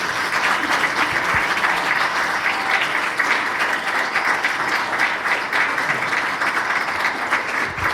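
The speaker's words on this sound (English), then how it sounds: "A round of applause for Michael, please." An audience at a talk show held at the Australian Ambassador's residence gives Michael a round of applause, loud, dense clapping that stays constant and full for the whole stretch.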